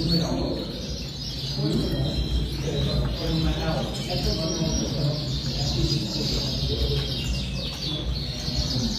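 Gloster canaries chirp and tweet in cages at a specialist Gloster club show, a dense chorus of bright, overlapping calls running continuously, with people talking in the background throughout.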